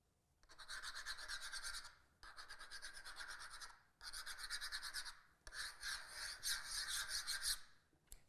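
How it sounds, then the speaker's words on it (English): A screw rasps across the UV-cured polyurethane wear layer of a laminate floor in four long scratching strokes separated by short pauses. The scraping is close and fairly quiet, with no voices. "to test the wear layer, we'll use a simple screw"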